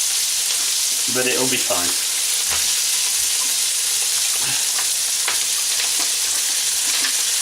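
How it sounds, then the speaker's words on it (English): Rice for breakfast fried rice stir-fried in a hot pan, a loud continuous sizzle and crackle with scraping stirs throughout; someone speaks briefly near the start over the frying. "get a good turn and stir on that, push it down, get it in, and get it cooking"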